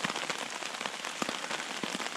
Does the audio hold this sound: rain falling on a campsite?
yes